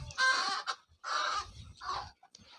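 Mixed native-breed chickens clucking close by, in three short, loud bursts separated by brief pauses, with no other sound around them.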